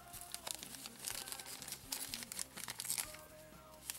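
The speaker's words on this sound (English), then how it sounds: "take it out of the plastic bag, that sheen is still there" A plastic bag holding a model decal sheet crinkles and rustles as the sheet is pulled out, close up in a steady run of crackles with a few sharper crinkles.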